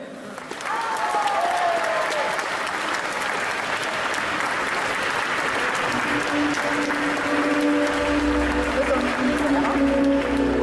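Dense, sustained applause and ovation from an indoor crowd for a parade band at an event's parade, loud and steady throughout with no break, a low hum creeping in near the end.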